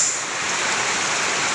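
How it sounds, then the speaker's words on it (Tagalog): Heavy rain pours down in a steady, dense hiss that holds constant throughout, loud and close with no voices. "Ngayon pa umulan ng ganito kalakas."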